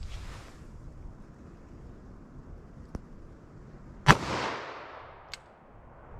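A single loud, sharp gunshot from a Smith & Wesson Model 610 revolver outdoors, with a fading tail over steady wind noise and a couple of fainter clicks around it.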